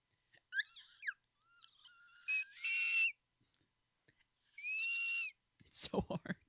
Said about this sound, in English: Whistle range that I'm trying to work on.